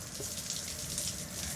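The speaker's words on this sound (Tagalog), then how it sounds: "Check natin yung tubig." Water runs steadily from a shower tap at a campsite shower area, a continuous hissing stream, close by with no other sounds.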